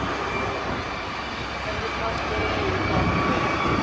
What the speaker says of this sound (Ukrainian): а тут такий летить гелікоптер